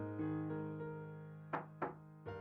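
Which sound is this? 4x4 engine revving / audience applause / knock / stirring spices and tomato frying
knock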